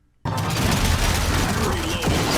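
Dense, continuous gunfire from the gunner special infected in the video game After the Fall, erupting abruptly after a brief silence and rattling on loud and unbroken, with a voice talking over it.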